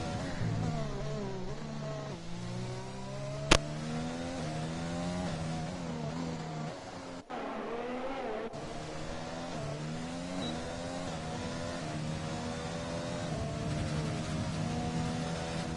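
Race cars in a Netherlands Grand Prix league race on a racing video game, engines droning loud and steady with rising and falling pitch as cars rev and shift, one sharp click midway, no talk.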